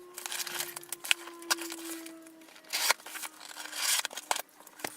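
Scissors snip and slice through the packaging of a book subscription box, giving sharp close clicks and cuts amid rustling and crinkling of paper and cardboard, with no talking.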